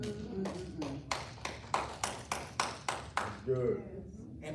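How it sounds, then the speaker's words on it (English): A church audience clapping in a steady rhythm, about a dozen distinct, evenly spaced claps close by, with a voice speaking at the start and end. "before you stop clapping"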